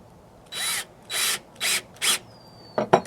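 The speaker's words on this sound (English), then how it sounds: "using the screw that's supplied with it, which is self-tapping. Now drive it in" A power drill drives a self-tapping screw while a Solera slide-topper awning is being installed: four short, even whirring bursts close by, then a brief louder rattling and knocking as the screw seats, with no talk.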